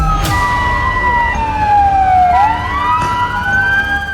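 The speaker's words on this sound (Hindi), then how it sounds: "सायरन बज रहे हैं" Emergency vehicle sirens wail loudly and close by, a sweeping falling and rising tone with overlapping siren layers and traffic rumble beneath.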